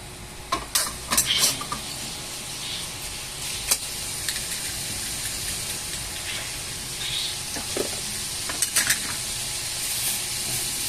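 Garlic sautés in a pan for garlic adobo with a constant loud sizzle. A utensil clinks and scrapes against the pan in scattered bursts, and no voices are heard.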